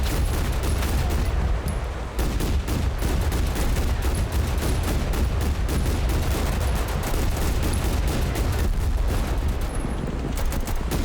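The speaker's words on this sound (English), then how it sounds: "I have to break out the AA gun." Anti-aircraft gun fire in the war video game Total Conflict: Resistance, heard as a continuous, loud barrage of rapid booming shots with heavy rumble and no break.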